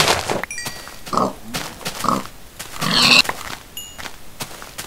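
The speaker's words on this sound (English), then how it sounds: "there's a couple more pigs over here." Pigs in Minecraft give short grunting oinks, three or four brief calls spaced about a second apart, fairly close, mixed with footstep-like thuds and a few high pinging game tones.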